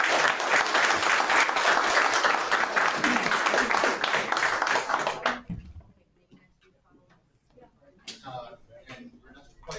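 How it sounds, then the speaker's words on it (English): Loud applause from a crowd at a police district council meeting fills the first half, then cuts off abruptly, leaving a quieter room with scattered sounds and a burst of noise near the end. "I'd like everybody to please give a round of applause."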